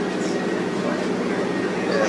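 Steady rumbling rail noise from inside a moving, restored century-old train carriage, a constant low roar with no talking.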